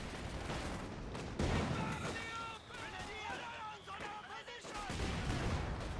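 Heavy gunfire in the World War II strategy game Company of Heroes 2: rapid volleys of rifle and machine-gun shots crackle in the middle distance beneath continuous, lively talk from a commentator.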